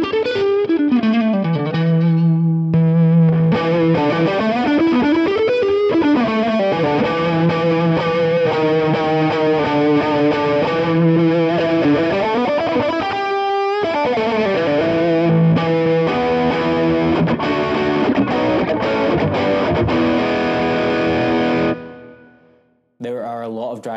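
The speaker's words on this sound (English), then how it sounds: "even when you have the treble turned all the way down and the output and the gain turned all the way up, there is still so much definition and clarity to the notes" Electric guitar through a J Rockett Archer Ikon overdrive pedal with gain and output turned all the way up and treble down, playing a loud, clear, driven melodic line with sustained notes and slides.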